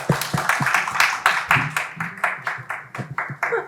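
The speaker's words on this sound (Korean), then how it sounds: "박수 한번 부탁드리죠" A small audience at a Korean academy information session for second-year middle school Korean classes claps steadily. The claps are quick and even, with a faint voice or two under them.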